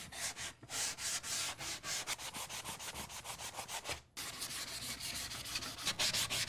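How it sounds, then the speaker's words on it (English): Light hand sanding along the outside edges of a small wooden frame before staining, steady close rubbing strokes in a continuous rhythm with a brief pause midway. "I'm going to do a light sand on the outside edges of this little"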